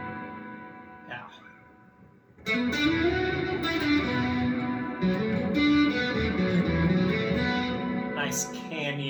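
Electric guitar run through a Caline Snakebite pedal set to a wide canyon-style reverb, a loud sustained chord wash with long echoing tails filling the space alone, after a quieter opening note.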